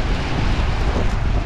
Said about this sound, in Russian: А, какое ветрище!